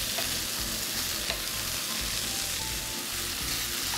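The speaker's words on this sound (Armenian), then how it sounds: "տապակենք մի վերջին անգամ բանջարեղենը" Vegetables fry steadily in a pan, giving an even, close sizzle with light stirring scrapes and no voices, while a vegetable pie made with crepes is prepared.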